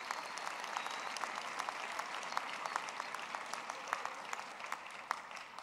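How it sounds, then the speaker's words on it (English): Audience applause at a university graduation ceremony for the Faculty of Natural and Agricultural Sciences, a steady crowd patter with distinct individual claps standing out, sustained and fairly even without talk. "May we give them a round of applause,"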